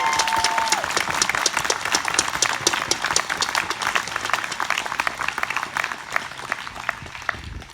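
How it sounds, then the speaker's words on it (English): Crowd applause at an outdoor Black Lives Matter rally in Mt. Horeb, 2020: many hands clapping in a busy, crackling patter with sharp individual claps standing out, holding steady before thinning at the end. "Can we get like one more round of applause?"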